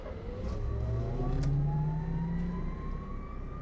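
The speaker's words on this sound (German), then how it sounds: "Hat der Motor wieder einmal zugeschaltet" A Heuliez GX327 bus engine in the video game OMSI 2 hums and rises steadily in pitch as it accelerates, close and continuous, with no voices.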